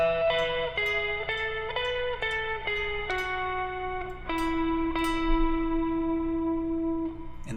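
Guitar playing the harmony line from a song: a clear sequence of single sustained notes stepping down, evenly spaced, then held longer, close and alone without talking.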